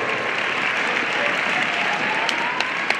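Loud, sustained applause from the crowd at a Russian amateur Latin rumba dance championship, an even roar of many clapping hands with a faint thread of music running beneath.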